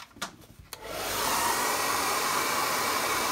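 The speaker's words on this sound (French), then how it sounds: "Je vais passer un coup de sèche-cheveux." After a couple of faint clicks and handling noises, a hair dryer switches on and blows with a steady, close whooshing hum, drying stone paper.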